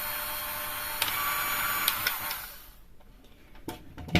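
A repaired hand mixer motor whirs steadily on its first speed, with a few clicks, before switching off and falling quiet near the end.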